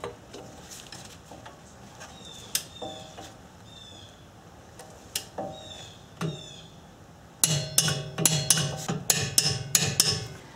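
A socket and ratchet tightening wheel hub bolts on a late-model Subaru, with scattered clicks and knocks at first, then a dense run of rapid, loud ratcheting clicks, while birds chirp faintly in the background.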